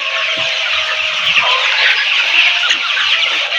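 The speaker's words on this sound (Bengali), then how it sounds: "দেখতে পাচ্ছেন এটা কিন্তু গলা ছোলা মুরগি" Sonali super hybrid naked-neck chickens on a poultry farm cluck and chatter as a busy flock, a steady, dense, fairly loud murmur of many birds with no talking.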